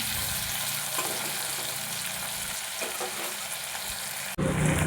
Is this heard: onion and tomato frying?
yes